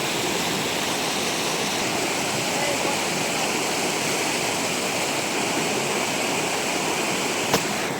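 A river flows steadily along a hiking trail, with a continuous broadband rush of water close by. The sound holds even throughout, with a brief tick near the end.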